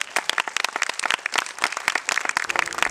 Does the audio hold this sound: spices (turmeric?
no